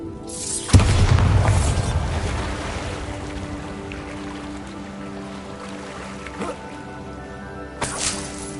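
A Bombarda blast spell goes off in Hogwarts Legacy on PS5 as a sudden loud boom, then a rumbling tail fades over a few seconds before smaller thuds and a brief burst near the end.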